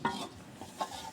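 Meat curry being stirred and sautéed in a pot, with a few soft scraping clinks of a spoon against the pot over a low sizzle, heard close and fairly quiet.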